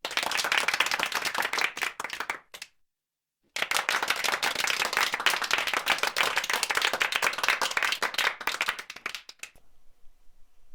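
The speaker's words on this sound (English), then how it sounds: "Please hold your applause" An applause sound effect of dense, loud crowd clapping breaks off into a second of dead silence, then resumes just as full for several seconds before cutting out.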